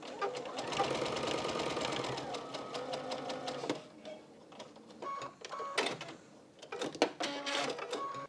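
A sewing machine runs in steady bursts, stitching crazy patchwork fabric pieces for a quilt-as-you-go flower block, with a long continuous run followed by shorter starts and stops, close and clear.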